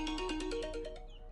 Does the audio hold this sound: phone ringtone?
yes